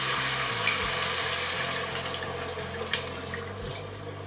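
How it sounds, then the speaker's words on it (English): Red wine poured into a hot lamb shank pan sizzles in a steady, close hiss with faint bubbling, continuous and unaccompanied by speech. "Okay, so we're going to deglaze this now."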